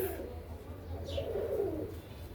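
Pet pigeons coo softly against a low, steady background hum, with a brief brighter call near the middle.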